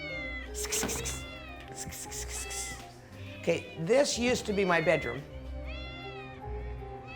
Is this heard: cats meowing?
yes